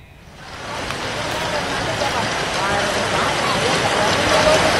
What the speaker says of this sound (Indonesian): hujan deras mengguyur Jakarta sejak sore hari